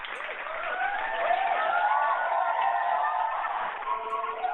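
An audience claps and cheers continuously, a muffled wash of applause with whooping voices rising and falling.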